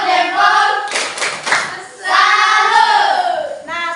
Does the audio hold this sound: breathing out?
no